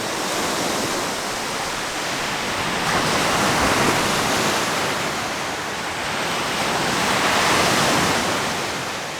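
Surf rolls steadily onto the shore at Chapel Beach near Chapel Rock, a continuous broadband wash that swells and recedes in slow surges, sounding like ocean waves, with no voices.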